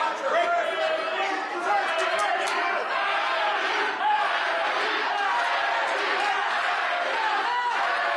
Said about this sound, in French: Vous pouvez entendre la foule là ici.